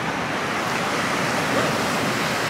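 Ocean waves wash steadily onto a beach at sunset, a dense continuous roar of surf with some wind noise and no clear voices.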